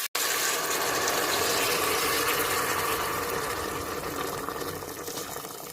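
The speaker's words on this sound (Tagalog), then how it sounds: "Ilagay na natin yung pinakulong tubig." Boiled water pours steadily into a cooking pot for chicken tinola, a continuous rushing, bubbling stream that starts right after a brief clunk and runs loud and unbroken to the end.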